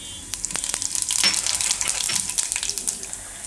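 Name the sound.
cumin seeds sizzling in hot oil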